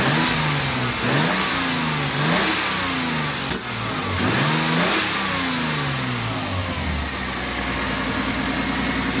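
Loud, close revving comes from a Mercedes 190E fitted with a turbo M104 engine and a cheap eBay turbo. Several rising and falling blips over a rough idle, then a steadier settled hum.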